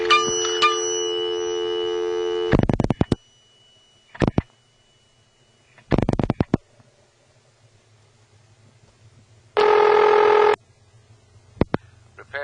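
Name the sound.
payphone bell dinging as dimes are inserted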